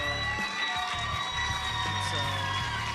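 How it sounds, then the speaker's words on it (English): Crowd noise fills a large arena at a compound archery world championship team final, a steady loud roar of cheering with scattered whoops and claps, continuous throughout with a low hum underneath. "a roar goes up from the crowd here"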